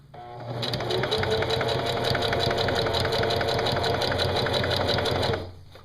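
A sewing machine runs a continuous fast burst of stitching on a DIY decoy bag, close and loud, starting and stopping abruptly within a few seconds.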